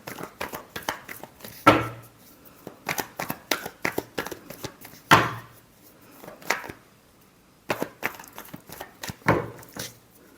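Tarot cards being shuffled by hand, a run of crisp riffling, flicking and tapping bursts with short pauses between, close and fairly loud, with no talking.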